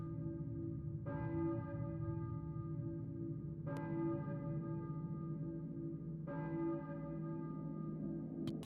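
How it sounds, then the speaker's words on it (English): A church bell tolls in the Silent Hill video game, three evenly spaced strikes with long ringing decay over a low, steady ambient drone. "it's only the ringing of a bell that guides Harry to a church"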